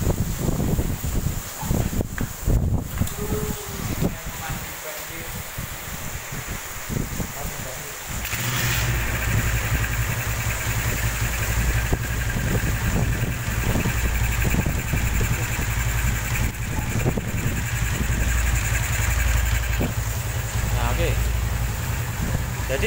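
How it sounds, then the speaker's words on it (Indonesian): Honda Tiger motorcycle engine started without a battery and left idling in a workshop, a few cranking attempts and clicks before it catches, then a steady low rumbling idle, loud and close, with someone talking over it. "yo kita hidupkan dulu ya motornya"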